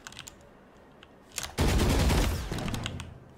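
Rapid gunfire in Valorant bursts in loud and close after a second and a half of quiet clicks, a dense rattling volley that slowly tapers off.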